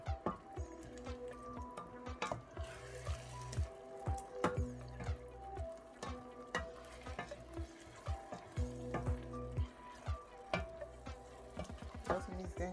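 Pepper stew ingredients stirred together while frying in red oil or groundnut oil, a steady sizzle broken by repeated scraping and stirring knocks of a spoon in the pot, close up with no talking.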